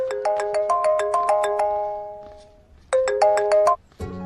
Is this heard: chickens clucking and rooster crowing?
no